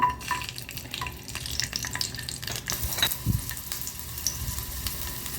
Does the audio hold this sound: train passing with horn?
no